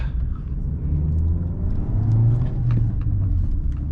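Renault Fluence 1.4 TSI petrol car engine running at idle, a steady low rumble and whir heard up close from start to finish, with no voices.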